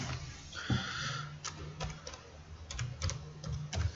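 Someone types on a computer keyboard, a close, irregular patter of quiet key clicks with a few sharper strokes over faint room hum, no voices.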